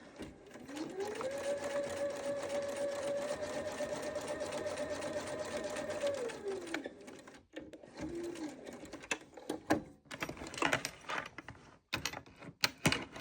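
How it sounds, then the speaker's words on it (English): A sewing machine runs a steady stitching stretch on fabric for a Sew Together bag, a fast even whir with a rising and falling motor tone lasting several seconds, followed by a short restart and scattered clicks and handling sounds. "I'm going to do just a quick stitch to make sure that I got it grabbed."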